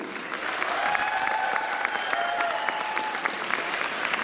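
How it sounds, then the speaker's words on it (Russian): Audience applause at a graduation ceremony for foreign students, dense sustained clapping from a large crowd, loud and even throughout, with a faint voice or tone lingering underneath. "Аплодисменты БНТУ."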